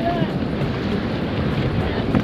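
A river-rafting boat moves through the water at Rishikesh, with a constant rush of water and wind noise close by and no distinct paddle strokes standing out.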